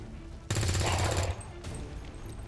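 Rapid automatic weapon fire from the XCOM 2 video game, a loud dense burst lasting close to a second followed by quieter battle ambience and fading echoes.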